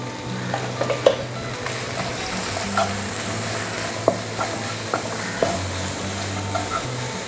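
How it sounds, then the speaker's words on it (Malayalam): Sliced onions with green chillies, shallots and a little salt frying in a pan, giving a steady close sizzle broken by occasional clinks and scrapes of stirring, with no talk. "സവോളയൊക്കെ ഒന്ന് നന്നായിട്ട് ഫ്രൈ ആയി വരുമ്പോഴത്തേക്ക്"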